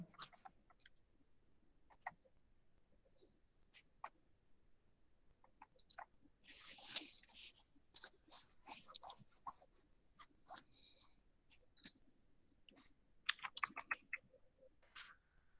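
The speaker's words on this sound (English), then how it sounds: "Start typing the program." Quiet, irregular bursts of key clicks from someone typing a program on a computer keyboard, with short pauses between flurries in a hushed room.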